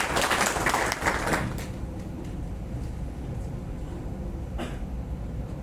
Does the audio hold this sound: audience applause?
yes